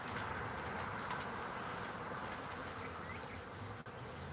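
A captured swarm of honeybees settling into a hive fills the air with a dense, continuous buzz, close and steady, with individual bees droning past.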